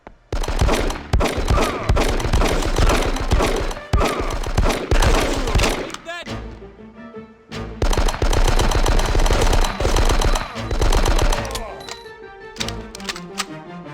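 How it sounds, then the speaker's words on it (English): MP5 submachine gun fire in the Die Hard Nakatomi Plaza video game: loud, close bursts of rapid automatic shots rattle in long runs, broken by a short pause near the middle before more sustained firing. "This is the MP5, like in the movie, except it recoils harder than the fucking LMG you get later."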